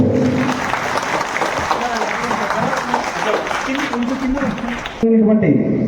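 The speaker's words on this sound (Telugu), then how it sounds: "కరతాళ ధ్వనులు" Applause from an audience at a felicitation ceremony during a school old students' reunion: steady, dense clapping throughout, with someone speaking over it via a loudspeaker.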